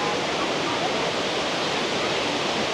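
Tumpak Sewu waterfall roars as a loud, steady broadband rush of falling water, dense and unbroken throughout.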